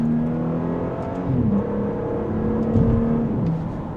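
A 2026 Audi S5 engine revs and climbs through paddle-shifted gears, its strong steady drone rising and dipping as each shift lands, heard up close with no talking.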